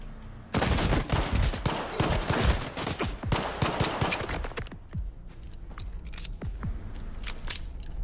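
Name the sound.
gunfire from the video game STALKER 2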